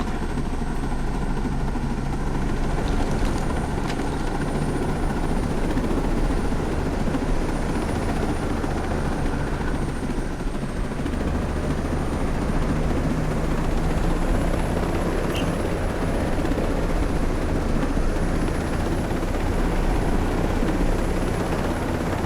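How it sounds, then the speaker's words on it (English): Constant heavy rotor thump and engine roar of a large helicopter in the video game Ghost Recon Breakpoint, loud and unbroken throughout, with no voices. "This is a huge helicopter."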